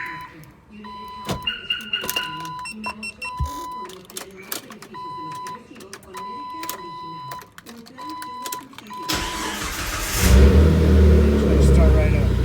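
A 2001 Jeep Wrangler TJ engine cranks, catches and revs up loudly near the end, after a stretch of clicking and beeping from the alarm system being installed.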